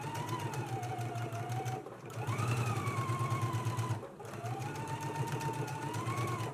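A sewing machine stitches the sleeves of a girls' and misses' dress, running in steady bursts with two brief pauses, its motor whine rising and falling at close range.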